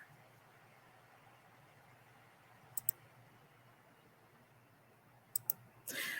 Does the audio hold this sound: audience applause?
no